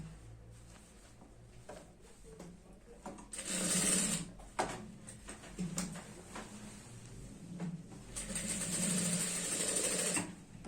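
An electric sewing machine runs in short bursts while stitching a girl's skirt, whirring up to speed and stopping between seams, with fabric shuffling and quiet handling noises in the pauses; close and moderately loud.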